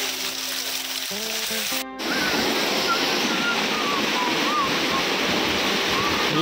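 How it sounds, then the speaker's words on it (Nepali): The waterfall at Garden of Caves, Cherrapunji, Meghalaya, pours in a dense, steady roar. After a short burst of tonal sound at the start, the rushing water fills everything, close and loud. "ल यहाँको मेन झरना चाहिँ यहाँ जस्तो छ है।"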